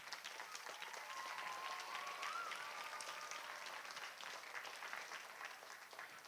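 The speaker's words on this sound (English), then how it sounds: "So please cheer for them." An audience applauds at a school winter concert, a sustained wash of many hands clapping that fills the room at an even level, with a faint whistle or cheer rising briefly above it.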